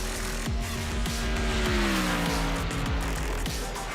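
Race cars circling the Daytona track in iRacing, NASCAR Xfinity cars including a Ford Mustang: a steady, loud engine drone with pitch sweeps and repeated sharp passes as cars roar by, no talking.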